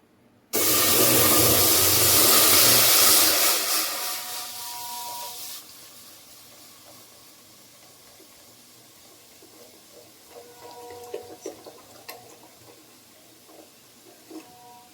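Coca-Cola poured into a heated bowl hisses and boils loudly at first, a broad steamy rush that fades after a few seconds into a quieter bubbling fizz with scattered small pops.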